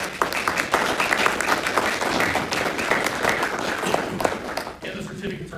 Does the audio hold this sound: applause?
yes